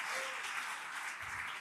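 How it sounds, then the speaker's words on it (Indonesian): Audience applause welcoming a sermon in a church service, a dense, even roar of many hands clapping at once, loud and sustained throughout the short moment with no voices on top. "Boleh sambut firman Tuhan dengan tepuk tangan yang paling meriah."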